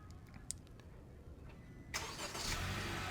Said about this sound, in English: Let's go ahead and remote start it again.